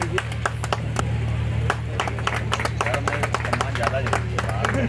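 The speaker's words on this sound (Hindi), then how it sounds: "आप सभी तालियों को साथ स्वागत करें।" An audience claps in welcome at a local event in Varanasi, steady scattered handclaps running throughout over a constant low hum, with speech-like sounds mixed in.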